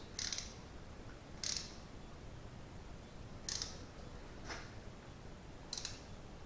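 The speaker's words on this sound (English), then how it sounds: "3/8 ratchet is more than enough to do this." A 3/8 ratchet tightening spark plugs in a car engine gives five faint, short clicking bursts spaced a second or two apart over quiet background hiss.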